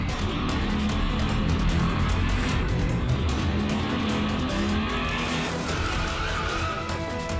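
A motorcycle slides with a skidding tire squeal in a game trailer's homage to the Akira bike slide, a loud continuous rush of engine and tire noise with music-like tones running throughout.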